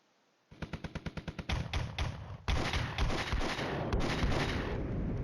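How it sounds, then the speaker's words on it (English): Soviet artillery fire in the video game Flashpoint Campaigns: Red Storm: a quick rhythmic string of about eight sharp booms, then a dense, continuous rumble of overlapping blasts that grows louder and keeps rolling. "the Soviet artillery is just falling like the fist of God"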